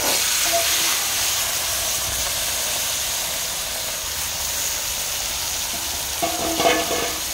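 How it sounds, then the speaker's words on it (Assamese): Pieces of magur fish sizzle in hot oil in a restaurant kitchen, giving a steady, close frying hiss that holds throughout, with a few clinks and stirring scrapes near the end. "এতিয়া মই তেল গৰম হোৱাৰ লগে লগে গোটেই মাছখিনি ইয়াত দি দিম।"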